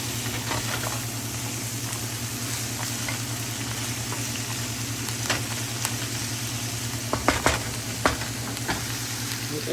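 Celery stir-fry being stirred in a frying pan, a continuous oily sizzle with a low steady hum beneath and scattered clicks and scrapes of the utensil, close and even throughout.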